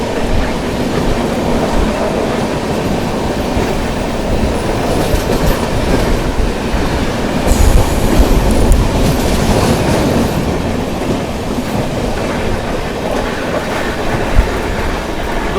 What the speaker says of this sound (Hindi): दोस्तों ये थी स्वर्ण जयंती एक्सप्रेस थी आप लोगों की, जो कि विशाखापट्टनम की ओर जा रही थी